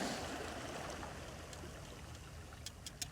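Tide water lapping at the shore in Seward, Alaska, heard as a steady, close wash of water with a few sharper splashes near the end.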